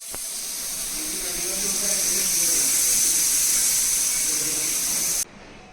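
A loud, steady hiss of escaping steam from a pressure cooker whistle while cooking veg pulao, running several seconds before cutting off abruptly.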